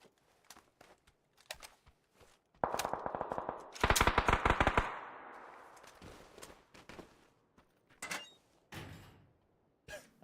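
AK rifle gunfire in the PUBG video game, a burst of rapid automatic shots clustered in the middle, mixed with scattered sharper single cracks and bangs before and after, fairly loud and echoing with no talk.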